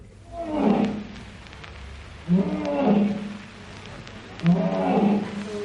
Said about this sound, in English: Let's hear what a real lion sounds like.